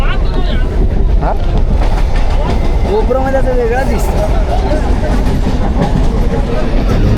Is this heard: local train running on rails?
yes